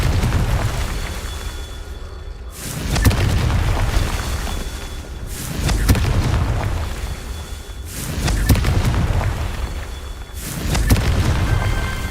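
Confringo blasting spells in a Harry Potter video game go off as a series of heavy booming explosions, about four of them spaced a few seconds apart. Each one swells loudly and then fades into a rumbling tail.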